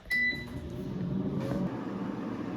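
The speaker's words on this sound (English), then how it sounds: "And now I'm going to set the temperature to 400 degrees Fahrenheit." An air fryer being set to 400 degrees Fahrenheit and started, with a short high electronic beep near the start and then a steady whirring fan hum that continues to the end, close by with no talking.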